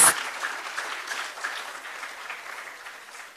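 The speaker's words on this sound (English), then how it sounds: "I want us to give a round of applause to the people who are standing." Audience at a higher education expo and career fair clapping, a full round of applause already underway that gradually fades over a few seconds.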